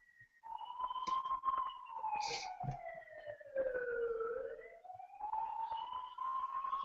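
An ambulance siren wails, rising and falling in long sweeping tones, fairly close and loud, with a few clanks and knocks underneath.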